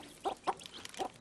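Pet chickens cluck in a few short, close bursts, three quick calls spaced across a moment, with no talking over them.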